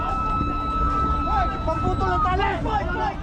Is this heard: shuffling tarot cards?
no